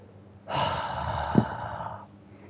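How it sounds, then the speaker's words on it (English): A single long, audible breath, close and moderately loud, lasts about a second and a half, with a brief catch partway through, heard alone without speech. "Where was the breathing?"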